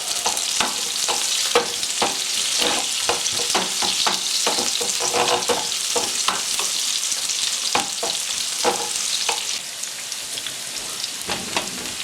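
Onions and potatoes fry for a Spanish omelette, a dense, steady sizzle and crackle from the pan, close and loud, punctuated by repeated scraping stirs, with no talking.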